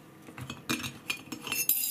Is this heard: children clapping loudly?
no